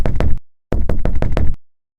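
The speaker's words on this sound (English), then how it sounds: "Then the knocking began." Knuckles rap on a kitchen window: loud, sharp, close knocks in two bursts, three quick raps, a pause, then four more, with nothing else around them.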